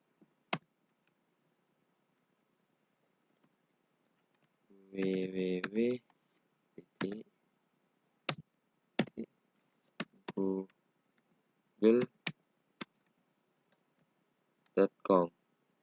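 Computer keyboard typing a tracert command: scattered light key clicks in short bursts, fairly faint, between brief stretches of spoken commentary.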